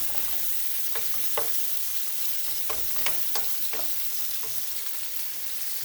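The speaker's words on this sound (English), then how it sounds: "We're just going to keep giving the occasional stir to make sure the butter coats everything." Sausage with onions, garlic and butter frying steadily in a pan, a constant close sizzle broken by occasional scraping stirs, with no talking.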